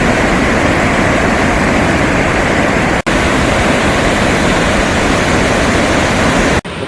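Athirappilly waterfall in Kerala roaring during the rainy season, a dense, loud, unbroken thunder of falling water close by with no voices, briefly cut twice.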